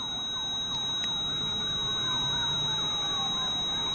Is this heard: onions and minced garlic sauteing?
no